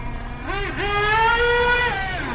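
A Hobao Hyper7 .28 nitro RC buggy engine revs in a thin, high whine that climbs, holds near the top with a brief dip, then falls away, loud and close with no talking.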